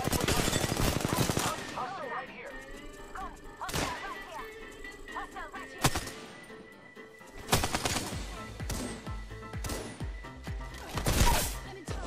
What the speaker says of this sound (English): we love Kraber shots just like that crack